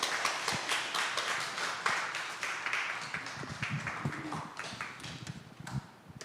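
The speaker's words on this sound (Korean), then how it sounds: "목사님 나오실 때 큰 박수 한번 부탁드리겠습니다" An audience at a church service claps to welcome the pastor, a thin scattered applause of distinct individual claps with an irregular rhythm that slowly tapers off, heard fairly close.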